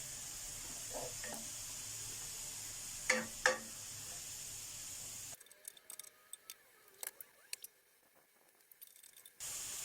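A soft, steady sizzle of diced meat stir-frying in an oil-free pan hisses for several seconds, then fades to quieter frying with scattered clicks and light scraping.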